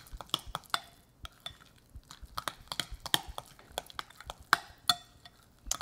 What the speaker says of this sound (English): now we're just going to stir this up until it is really well blended